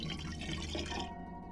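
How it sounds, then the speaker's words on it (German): Water filling a kettle in the video game Black Mirror 3, a short, faint, steady liquid pour and trickle that cuts off near the end. "Ich fülle gleich etwas Wasser rein."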